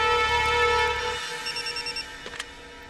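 Telephone ringing as a call is placed, an electronic ring tone with a steady hum that gives way to a short series of pulsed beeps, then a click.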